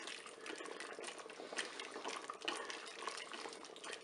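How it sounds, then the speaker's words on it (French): Egg yolk stirred into a bubbling blanquette de veau sauce inside a Cookeo multicooker: continuous soft liquid swishing with gentle simmering bubbles and faint spoon scrapes, close and quiet. "Voilà, je mélange bien."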